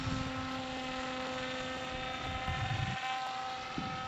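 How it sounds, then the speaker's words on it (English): A Hawkeye RC camera plane flies and banks through a turn, its propeller motor giving a steady, continuous buzzing drone at an even level throughout, with no voices. "You'll notice the plane loses a little of altitude into the turn"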